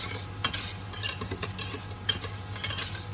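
Peaches and cream folded into a cold-set cheesecake mixture, with soft scraping and light clinks of a utensil against a bowl, a few sharper taps among continuous stirring.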